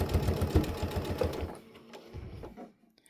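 A sewing machine stitches binding onto a quilted dish towel, running in a rapid mechanical whir close by before slowing and stopping, with no speech.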